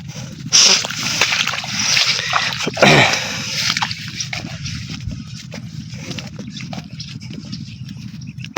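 A garden hose sprays water onto plants in a flowering garden, a steady hissing splatter with heavier splashing bursts, close and fairly loud, continuing throughout.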